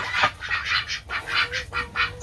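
Ducks in a straw-bedded pen quack repeatedly, a rhythmic run of close, fairly loud honking calls with brief gaps between them.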